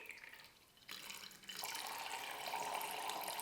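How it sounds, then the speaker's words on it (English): Water drizzles at low pressure out of a tiny tube, a soft steady trickle and hiss that grows fuller about halfway through and then runs on evenly with no talk. "We're going to let it drizzle with just low pressure."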